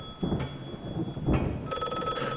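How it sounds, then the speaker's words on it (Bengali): Two low thunder rumbles boom on a stormy night in a Bengali horror audio drama, followed by a steady hiss of falling rain with a faint ringing tone near the end. "আরো দুটো শব্দ এলো কানে, বজ্রের গর্জন এবং বৃষ্টির পতন।"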